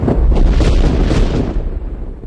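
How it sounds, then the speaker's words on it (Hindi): A bomb explosion sound effect bursts out loud and heavy, then its booming rumble dies away over about two seconds. "पूना में एक बार फिर बम का धमाका हुआ।"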